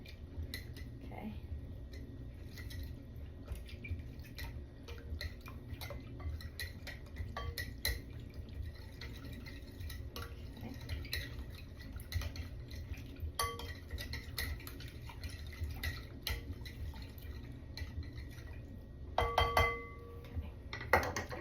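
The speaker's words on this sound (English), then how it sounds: "we can mix that up a little bit with our Danish dough whisk" A Danish dough whisk stirs sourdough starter in a bowl, making soft irregular scraping and clinking taps that are close and fairly quiet, with a few louder knocks near the end.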